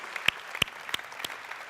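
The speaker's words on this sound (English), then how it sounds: "So big round of applause for all of these sponsors as well" Four sharp, separate claps about a third of a second apart stand out near the mic, while a conference audience claps faintly behind them in appreciation of sponsors.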